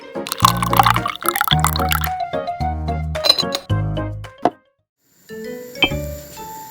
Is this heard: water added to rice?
yes